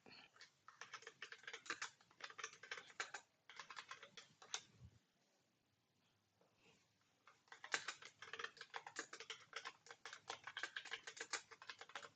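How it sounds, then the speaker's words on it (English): Rapid typing on a computer keyboard, close and steady, with dense key clatter in several bursts separated by a short pause near the middle, and no talking over it. "Oh God, this keyboard."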